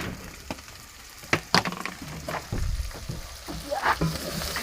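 Chopped onion frying in a pan, cooked outdoors for a wild francolin bird dinner, gives a soft background sizzle broken by scattered stirring scrapes and clatters, fairly quiet with no talk.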